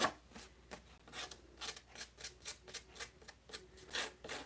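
Edges of a craft piece being roughed up by hand: a quick, close series of dry rasping strokes, around a dozen in a fairly regular rhythm, quiet and alone.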